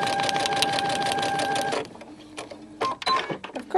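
A sewing machine stitches along a dotted line on fabric in a fast, even, close-up whir for nearly two seconds, then stops. A few scattered clicks and soft handling sounds follow.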